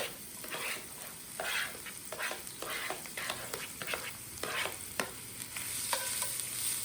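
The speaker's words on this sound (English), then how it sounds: "So I'm going to give that a stir." Onions, sweet red pepper and celery sizzle steadily in a hot pan while a utensil stirs through them, scraping and turning in uneven strokes over the continuous frying hiss, close and fairly loud with no talking.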